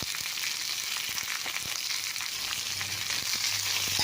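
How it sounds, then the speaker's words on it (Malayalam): Chopped okra (vendakka) and onions sauté in a pan with salt for a potato and okra masala curry, crackling and sizzling steadily up close while a utensil clinks and scrapes occasionally; no voices. "സവാളയൊക്കെ ഒന്ന് കുറച്ച് വാടി വരുമ്പോൾ ഇതിലേക്ക് അരിഞ്ഞ് വെച്ച് വെണ്ടക്കായ ഇട്ട് കൊടുക്കാം."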